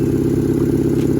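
A turbocharged BMW R18 motorcycle engine idles close and loud, a steady throbbing low rumble with rapid rhythmic pulsing and slight rattling, no voices.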